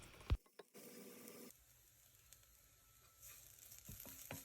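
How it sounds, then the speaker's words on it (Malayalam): Coconut and tomato masala sautéing in a pan for egg thoran, with a soft steady sizzle and a few sharp clinks of a utensil against the pan near the start and end. "ചേർത്ത് കൊടുത്തതിന് ശേഷം ഈ മസാലയുടെ പച്ച മണമൊക്കെ ഒന്ന് മാറുന്നവരെ നന്നായിട്ട് വീണ്ടും വഴറ്റി കൊടുക്കാം"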